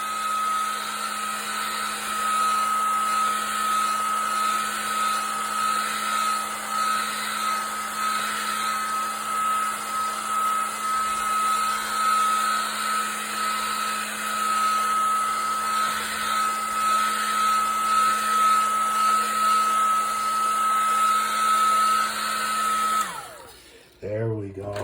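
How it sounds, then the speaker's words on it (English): A heat gun blows hot air to dry a surface, a loud, steady whine with a strong constant tone and airy hiss that runs unbroken for over twenty seconds, then winds down abruptly at the end. "Now, I'm going to help it a little bit with a heat gun, okay? And it does make some noise"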